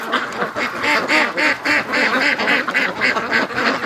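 A flock of breeding ducks in a pen on an icy morning quacks loudly and nearly nonstop, with overlapping rhythmic calls close at hand.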